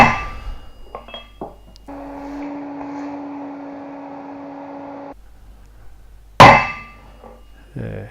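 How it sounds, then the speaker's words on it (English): A few metallic hammer strikes, including one loud sharp clang, separated by a steady mechanical hum, as a part is hammered into place on a Valmet 911.3 tractor hub. "Once it was firmly hammered down in place"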